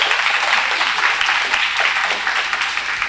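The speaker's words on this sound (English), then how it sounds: "want to give our panelists a round of applause." An audience at a Juneteenth commemoration gives loud, sustained applause for a panel, close and even throughout with no talk over it.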